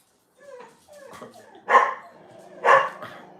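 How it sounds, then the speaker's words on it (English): Dogs barking in a home, two loud sharp barks standing out over lower growling and yipping noises, close by with no talk. "I hear growling."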